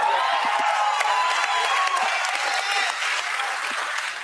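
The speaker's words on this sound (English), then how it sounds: "Clap for yourself." An audience breaks into steady applause, many hands clapping together in a bright, continuous patter that holds at a fairly even level throughout.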